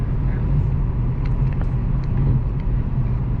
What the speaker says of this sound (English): There's a bit more wind noise than I'd like.